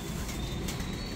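Pigeons in a home loft give a faint, low cooing amid a steady background hiss, with no voices present.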